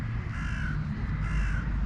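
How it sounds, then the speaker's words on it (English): A crow perched up on a ramp in a small protected bird enclosure gives two harsh caws, the second after a short pause, close and fairly loud over steady low background rumble. "There's our crow. Our crow's up on the ramp."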